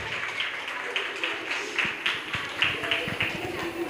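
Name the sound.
audience applause at a school annual day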